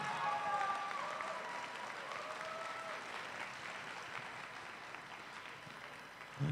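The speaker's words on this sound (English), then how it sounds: "have another round of applause for all of our teams competing here today at Highland Park." A round of applause from the audience at the Highland Park league championship for the competing teams, steady broad clapping throughout at moderate distance, with a brief louder burst at the very end.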